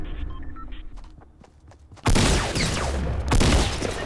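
Gunfire in the Fortnite Battle Royale video game, opening with quieter scattered shots and footsteps before a loud, dense burst of rapid shots and booms erupts halfway through and keeps going to the end.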